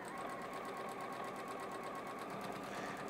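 A sewing machine stitches two fabric strips together, its needle chattering in a fast, even, continuous rhythm, close and moderately quiet, with no voices.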